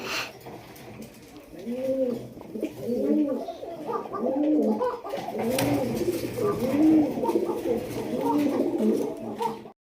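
Pigeons coo repeatedly in a loft among birds kept for sale, including a bonded pair and Sirazi pigeons, the soft rolling calls overlapping in a steady rhythm throughout, close and fairly loud.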